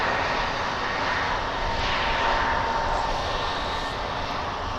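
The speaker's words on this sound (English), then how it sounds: "it's possible the Qatar plane could be headed over to the east side of DFW" A Qatar Airways jet airliner rolls past at DFW airport, a steady, broad engine roar that holds at moderate level throughout, with no voices over it.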